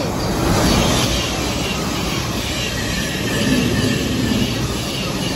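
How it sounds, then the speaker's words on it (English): Fast train passing at Hatfield on the East Coast Main Line, a loud, close, steady roar of rushing wheels and air that lasts throughout without talk. "Fast train coming, and I think it's a Lumo or something."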